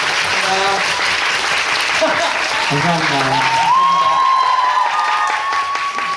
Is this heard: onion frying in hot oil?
no